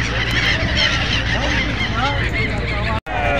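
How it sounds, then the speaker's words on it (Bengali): A large flock of seagulls over the Ganges at Varanasi calls in a dense, continuous chorus of squawks. Voices mix in, and the sound cuts out briefly near the end. "অগুন্তি সিগাল পাখি, অগুন্তি সিগাল পাখি।"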